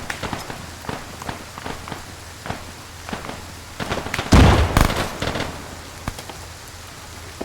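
A hand grenade explodes in a Chechnya-set military shooter game: a loud blast with rumbling debris in the middle, surrounded by scattered sharp pops and footstep-like thuds.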